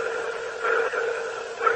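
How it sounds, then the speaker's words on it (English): Pulsing, sonar-like tone from a speaker aboard the Boeing Starliner spacecraft, a steady hum with faint rhythmic swells and a brief brighter ping near the end, heard alone with no talk. "It was kind of like a pulsing noise, almost like a sonar ping."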